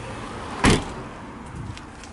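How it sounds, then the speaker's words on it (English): A single solid car door of a 2012 Scion iQ thunks shut, a short heavy slam close by, followed by quiet background hum. "The doors, they sound really solid."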